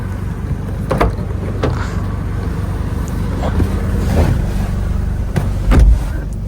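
A modified Toyota Belta with air suspension and BBS rims rides along a road, heard from inside as a steady low rumble with road and wind noise and occasional thumps from bumps.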